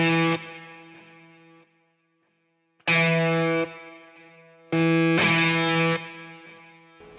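Three sustained distorted guitar notes, each struck and left to ring with a lingering plate reverb tail fading between them.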